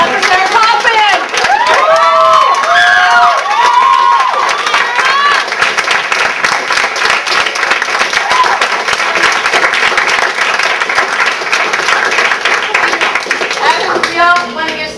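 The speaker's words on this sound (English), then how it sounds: "We all want to give Sarah another big round of applause" Audience applause and cheering at a college theater event, a dense, loud wash of clapping with whoops and shouts rising early, continuing steadily for the full stretch.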